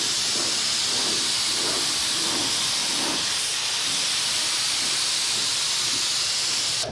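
A spray gun with its trigger wide open lays an even coat of paint on the bodywork of a '59 Dodge Coronet, a steady loud hissing spray that runs continuously with no pauses.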